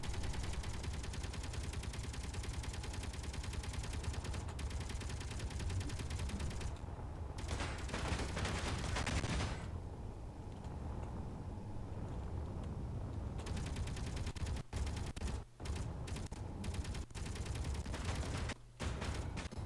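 Automated gun turrets firing in the space-building video game Space Engineers: continuous rapid machine-gun rattle, fairly faint and distant, running for nearly twenty seconds with brief pauses and clipped gaps between bursts.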